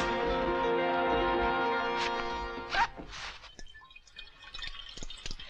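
A tap runs in a tense action-film scene: after a sustained tonal drone fades, water splashes and drips irregularly at close range, alone and fairly loud.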